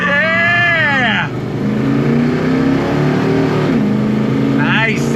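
A 1970 Plymouth AAR 'Cuda V8 muscle car pulls away in first gear, its engine note rising loud and close as it accelerates, with a voice speaking over the start and again near the end.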